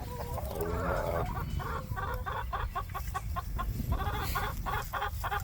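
Chickens cluck in quick, rhythmic bursts close by, a busy flock sound over low background rumble.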